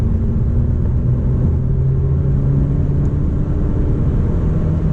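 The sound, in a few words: 2014 Honda Civic 1.8L engine revving in sport mode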